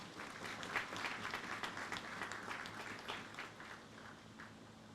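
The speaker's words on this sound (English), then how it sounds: "let us give them a wonderful applause again" Sustained applause from an audience, many hands clapping steadily for several seconds, heard from a distance and fairly quiet.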